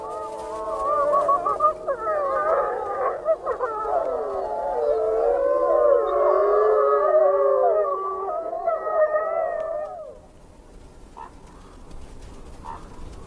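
Wolves of Yellowstone's Lamar Valley howl together in a loud, long chorus of overlapping rising and falling wails after a pack victory, then fade abruptly into faint background.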